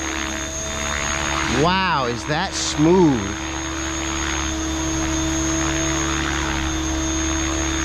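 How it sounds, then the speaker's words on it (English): A Synergy 516 RC helicopter flies in sport mode, its rotor making a loud steady whine and hum. Brief sweeping tones rise and fall partway through as it manoeuvres, and someone speaks over it. "first time I've flown this helicopter or this flight controller, that's hands off"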